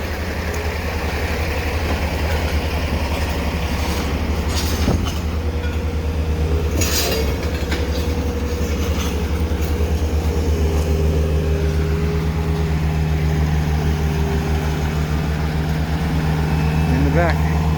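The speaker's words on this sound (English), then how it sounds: "We're just going to load up that concrete now and stick it in the back of the truck." Machine idling and working on a site while old concrete is loaded into the back of a truck, a steady low engine drone with occasional knocks and scrapes; someone talks over it.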